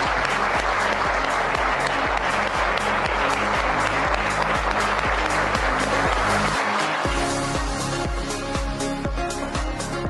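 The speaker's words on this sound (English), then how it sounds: "So give yourselves a round of applause" Sustained, loud applause from a large audience at a real estate seminar, dense clapping filling the whole stretch with a steady roar and a rhythmic beat underneath, easing slightly near the end.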